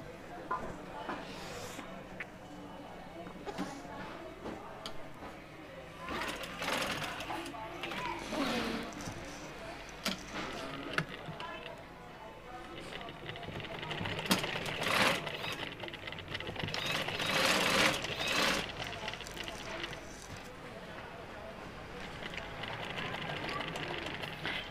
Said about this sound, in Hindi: अब आपने गले के साथ साथ सिलाई लगानी है।